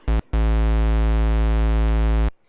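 Logic ES2 synth with a triangle oscillator and a square pulse oscillator, building a talking dubstep bass patch: one sustained, buzzy, harmonically rich bass note after a brief stab, loud and alone for about two seconds.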